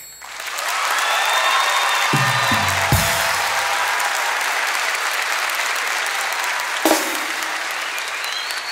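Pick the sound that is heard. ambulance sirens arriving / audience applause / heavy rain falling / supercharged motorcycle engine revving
audience applause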